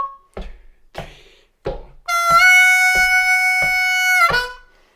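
Harmonica playing a blues lick, a few soft tapped or clicked beats counting in before a sustained, bent draw note holds for about two seconds alongside steady taps, then fades.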